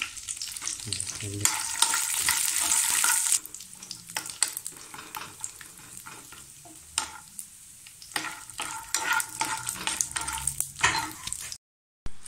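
Peanuts frying in hot oil for pickle-making, stirred with a spoon; steady close sizzle with repeated scraping strokes and clatter against the pan, louder at the start, ending with a short silence.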